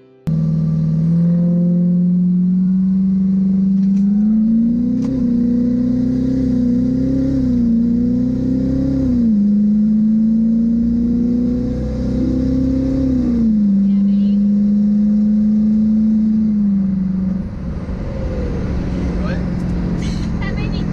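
A car engine revs and accelerates hard during a drag race, a loud sustained drone rising and dipping through several gear changes before easing off near the end.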